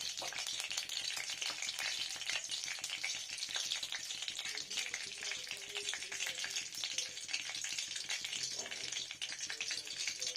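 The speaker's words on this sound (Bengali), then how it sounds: "এটা হচ্ছে পাঁচ ফোড়ন এটা খুব ইম্পর্ট্যান্ট ফোড়ন দিয়ে নিলাম" Panch phoron whole spices sputter in hot oil for a vegetarian shukto, a close, continuous crackle of rapid pops and hiss that keeps up steadily throughout, with no talking.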